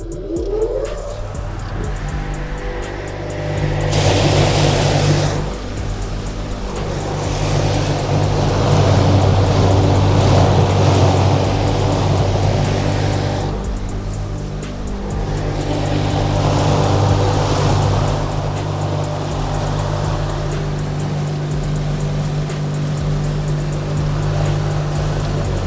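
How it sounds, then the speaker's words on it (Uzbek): A straw chopper driven by an aluminium electric motor runs loudly and steadily, its whirring drone swelling in bursts as straw feeds through, with no talk over it. "Bitta endi alyumin motorimizni ishlatib ko'rsatib beramiz bunda ham."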